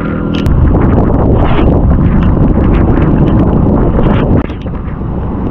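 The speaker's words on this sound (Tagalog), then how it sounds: "Lakas ng hangin" Strong wind buffets the microphone in a loud, continuous roar with gusty fluctuations, dropping briefly near the end.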